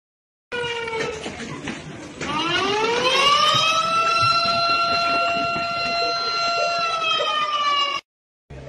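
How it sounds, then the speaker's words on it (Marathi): Siren alarm sounded for an earthquake drill at a village council disaster-management exercise, a loud rising wail that climbs steeply and then holds a steady, sustained tone for several seconds before cutting off abruptly. "आम्हाला सायरनचा आवाज आला"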